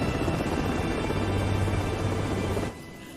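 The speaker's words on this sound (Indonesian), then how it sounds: "Setelah seluruh timnya memasuki helikopter, mereka pun mengudara" A helicopter in a film lifts off with a steady loud rotor and engine drone, a low throbbing hum that holds for a few seconds before dropping abruptly in level near the end.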